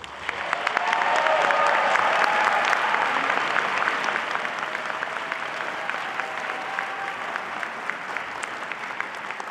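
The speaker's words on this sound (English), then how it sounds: "Please join me in another round of applause for our keynote." Loud sustained applause from a commencement audience for the keynote speaker at a school of education graduation, a dense wash of clapping that swells early, then thins into scattered claps toward the end.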